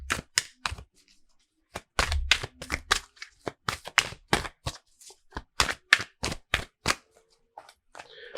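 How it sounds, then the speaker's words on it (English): Rapid bursts of crisp tarot card riffling and snapping, several quick shuffles separated by short pauses, close and fairly loud with no talking. "if I can just remember how to shuffle."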